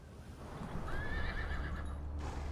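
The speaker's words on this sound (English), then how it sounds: "Everything's silent except for the movement of horses." Horses shift and move in a quiet field before a battle, with a clear neigh rising over the steady low rumble of hooves and movement; no voices.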